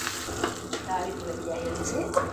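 Mustard seeds and crushed cumin crackle and sizzle in hot oil for a curd-rice tempering, a soft steady frying hiss with small pops, with a brief word spoken over it.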